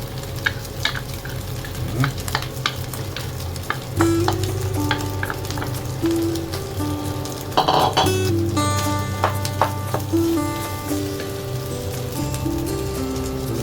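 Fried rice is tossed and stir-fried in a pan with a steady, close frying crackle and scraping stir noises. Faint tonal background sounds run underneath, with no voices.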